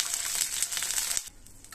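Two cups of water hit a hot pan with oil and mustard seeds, giving a loud, bright sizzling hiss that cuts off abruptly, leaving a faint crackle.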